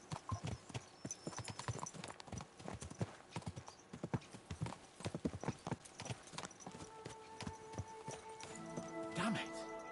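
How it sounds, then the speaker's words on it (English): Horse hooves clip-clop steadily and close in the medieval role-playing game Kingdom Come, a quick repeated trot of sharp knocks with a brief whinny and rising ambient tones near the end. "Let's really spur these horses on, eh?"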